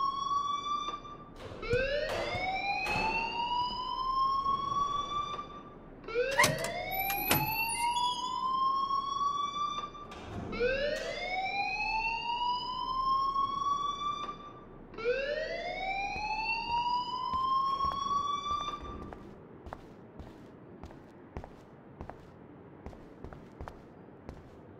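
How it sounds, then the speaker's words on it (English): A rising-and-falling electronic alarm wails in Life is Strange Remastered, four long sweeping cycles repeating every few seconds with bright harmonics, loud and alone before fading into quieter background sounds. "please turn off that alarm since that's your job"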